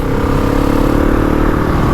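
A GasGas ES 700 motorcycle engine running in fifth gear during break-in, a loud steady drone held at even revs without climbing, close and continuous with no voices.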